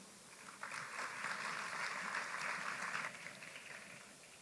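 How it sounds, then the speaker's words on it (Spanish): Applause from a seminar audience for a panel of speakers at a business expo in Barranquilla, a steady burst of clapping lasting a few seconds before fading, set against room noise in a conference hall. "Un aplauso para ellos."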